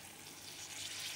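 Water poured from a small cream bowl into a pan, a soft, faint splashing rush lasting only about a second, alone and without voices.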